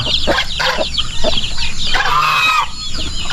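Farm chickens cluck in short repeated bursts, including a mother hen leading her chicks, with thin high chick peeps scattered through the steady, close clucking.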